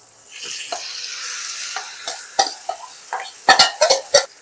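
Boiled cabbage, tomato and potato being stirred in a frying pan for cabbage paturi, with soft sizzling under a series of scraping, clattering spoon strokes that grow louder toward the end.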